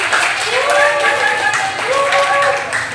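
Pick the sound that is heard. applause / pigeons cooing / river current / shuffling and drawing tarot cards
applause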